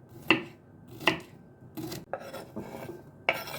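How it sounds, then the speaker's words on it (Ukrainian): A knife chops cucumber into julienne strips on a board, giving about five sharp, crisp cuts at an irregular, unhurried pace, close and clear. "огірочок також сюди поріжу такою соломкою"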